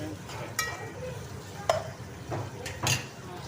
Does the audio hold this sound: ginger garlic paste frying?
yes